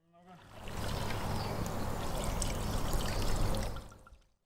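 Georgian wine poured steadily from a bottle over meat during cooking, a continuous splashing liquid stream lasting several seconds at close range, with faint background noise.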